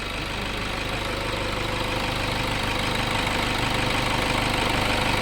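A Toyota Innova engine that has been stalling while driving runs at a steady idle, producing a continuous loud, even mechanical hum and rattle close by with no voices.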